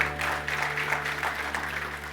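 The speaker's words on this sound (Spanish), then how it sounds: "Denle ese aplauso fuerte a Cristo, porque Él es bueno." A church congregation applauds during a Christian service, a steady wash of clapping held at even volume for a couple of seconds under a low sustained hum.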